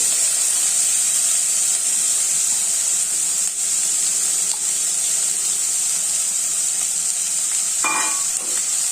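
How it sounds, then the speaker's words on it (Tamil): Chopped snake gourd sautéing in a pan with dried curry leaves, a loud continuous hiss of frying heard close and steady, with a short scraping stir near the end. "இப்போ புடலங்காயை போட்டுக்கலாம்"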